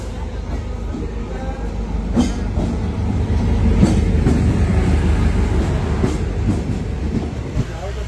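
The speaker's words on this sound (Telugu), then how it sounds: "ట్రైన్ వస్తుంది." A train rumbles along the tracks through a wooded rural stretch, a heavy, close, continuous roar with occasional clanks and rattles, while indistinct voices mix in.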